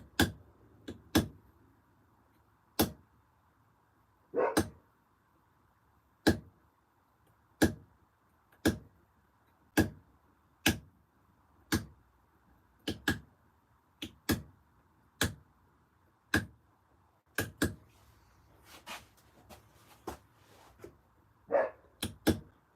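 Outdoors, a dog barks in short sharp single barks. They come at irregular intervals, sometimes in quick pairs, and carry on for over twenty seconds against a quiet background.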